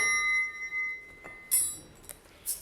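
A bright metallic ringing sustains throughout, with a few light strikes sparkling over it, like a triangle struck and left to shimmer.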